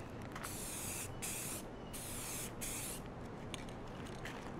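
Aerosol spray paint in almond beige hissing onto a computer case panel, several separate bursts of spraying with brief pauses between them, close by and steady, with no talking.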